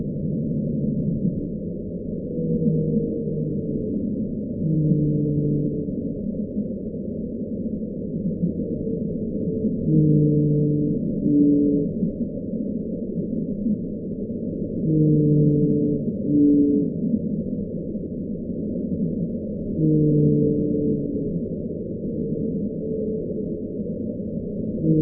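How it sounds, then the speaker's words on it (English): Blue whale calls sped up tenfold, a series of deep tonal moans repeating in clusters roughly every five seconds, steady and alone with no voices. "Now compared to the blue whales, which is noticeably deeper."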